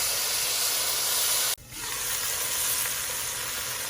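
Corned beef sizzles and hisses steadily as it browns in a hot pan, the frying noise cutting off briefly for a moment before resuming at a slightly softer level.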